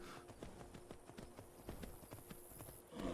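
Horse hooves clip-clopping in The Elder Scrolls V: Skyrim video game, a steady walking rhythm of quiet, crisp hoofbeats with no talk over them.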